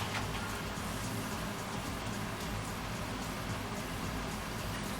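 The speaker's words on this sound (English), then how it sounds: "I'm just frying all my chips because I want to put chips on" Potato chips frying in hot oil for burgers, a steady dense hiss and crackle that holds evenly throughout, fairly close and with no talk over it.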